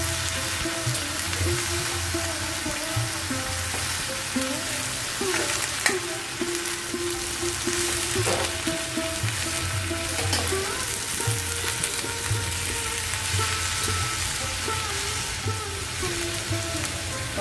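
Washed mixed vegetables go into a hot pan and sizzle loudly and steadily up close. Occasional scrapes and soft clunks of stirring sound over the crackle, and no one speaks.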